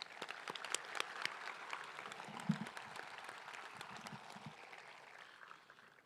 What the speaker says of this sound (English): Let's give another round of applause for our chorus national anthem.